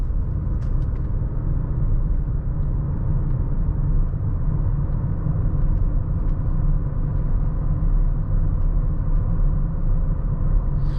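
A 2020 Mazda CX-5 rounding a cloverleaf off-ramp, heard from inside the cabin as a steady low road and engine rumble that stays constant and fairly loud throughout.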